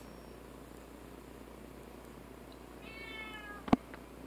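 A pet cat meows once near the end, a short descending call from close by, followed by a brief knock, heard over a quiet room hum.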